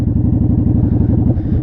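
A motorcycle engine with a steady, close, loud low chugging pulse as the clutch is eased out under light throttle, with no talking.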